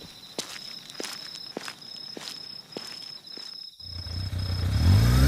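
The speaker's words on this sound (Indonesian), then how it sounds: "Ada motor si Peot nih" A motorcycle arrives at night, its engine rising steadily from quiet to a close, loud rumble after a stretch of footsteps and chirping insects.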